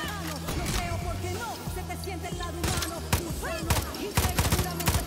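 Bursts of rapid gunfire in Far Cry 6 crackle in clusters, some sharp and close, mixed with game sound effects and scattered tones.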